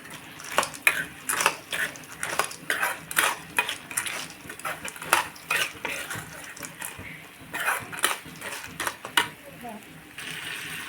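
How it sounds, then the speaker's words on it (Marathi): Fried mixed-dal sandge being stirred into an onion-garlic masala in a pan: a steady, rhythmic run of scraping and clinking spoon strokes against the metal, close and fairly loud, with no talking. "आता मी हे भाजलेले सांडगे घालून मिक्स करून घेणार आहे"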